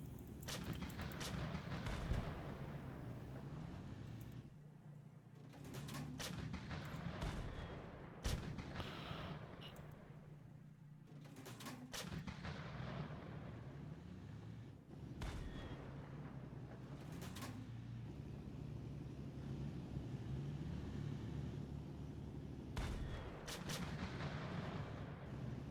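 A tank video game carries repeated booming cannon shots and sharp gunfire cracks over a dense, constant battle rumble, heard at fairly close range without talk.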